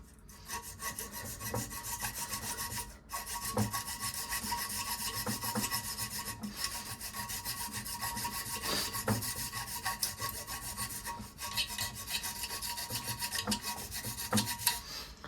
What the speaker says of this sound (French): C'est assez rare de devoir scier cette partie-là